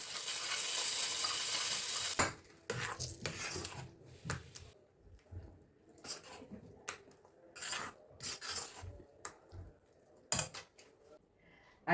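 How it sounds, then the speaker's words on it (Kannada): A cumin and curry leaf tempering is stirred into barley curd rice. A brief hiss opens, then close, quiet, irregular scraping and squelching stirring strokes follow, with no talking. "ಈಗ ಒಗ್ಗರಣೆ ಆಫ್ ಮಾಡಿಕೊಂಡು ಇದನ್ನು ಮೊಸರನ್ನ ಹಾಕ್ತಾಯಿದ್ದೀನಿ."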